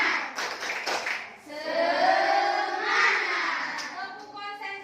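An elementary school class does a rhythmic clapping chant, children clapping in quick bursts and then shouting together in a loud group chant, close and lively in a classroom.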